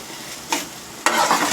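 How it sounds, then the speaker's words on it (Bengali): Boiled chopped potato and chopped coriander are stirred in a hot pan as dosa filling, giving a sizzling background broken by two louder scraping stirs, close-up with no talking. "এটাকে আমি ভালো করে নেড়ে ছেড়ে একটা পুর করে নেব"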